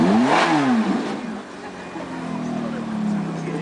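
A Ferrari F430 engine blips its revs at a car meet, a sharp rising-and-falling rev burst up front followed by a lower idle-like drone, heard nearby and fairly loud.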